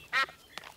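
A cartoon duck at a duck pond gives one loud nasal quack, then a softer, shorter quack follows, close and alone.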